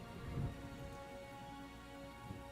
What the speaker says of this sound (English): the rain is coming down in just sheets at this point